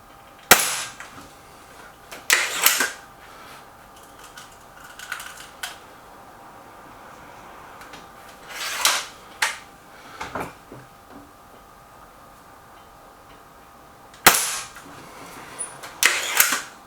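A Hatsan 900x Breaker air rifle fired at a gallery range, sharp close cracks spaced several seconds apart, each followed by brief mechanical clicks, with quiet between shots.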